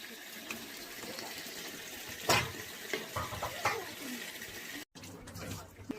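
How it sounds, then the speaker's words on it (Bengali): Hot water poured into a pot of fish curry with eggplant, a steady close splashing gush with brief clatter, while a voice talks over it. "এটা লাগি একটু গরম জল দিলাম"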